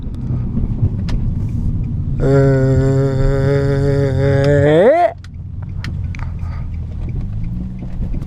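An Infiniti G35 sedan with powder-coated wheels revs hard nearby, its engine note rising steadily into a loud, climbing whine before cutting off abruptly, then an idle rumble continues.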